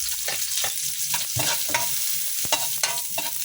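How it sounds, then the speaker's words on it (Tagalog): Garlic and onion being sautéed and stirred in a pan for pancit, with steady sizzling and repeated scraping stir strokes at close range, no talking. "Ay gigisahin na natin yung ating bawang"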